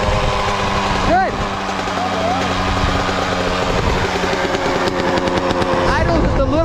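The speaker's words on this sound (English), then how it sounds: "Idle's just a little high, but it's not running away." A Yamaha YZ 125 dirt bike engine idles steadily and close by with a slightly high idle, a continuous two-stroke drone with small revving wobbles throughout.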